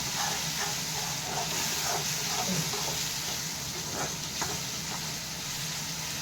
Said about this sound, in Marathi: हे बघा, इकडे आपण एकीकडे रवा भाजून घेत आहोत